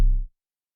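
Time-stretched bass sample from Cascade Volume 1: one deep sustained note lasting about a quarter second, then cutting off abruptly into silence.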